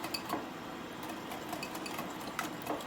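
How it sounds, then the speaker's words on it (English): Two room-temperature eggs whisked in a bowl for hot and sour soup, faint, irregular clinks and taps of the whisk against the bowl over a quiet background. "Whisk really well."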